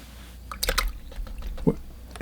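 Fresh clean water is laid onto watercolor paper with a square brush, giving soft, close wet strokes and small drips and squishes in a short quiet burst.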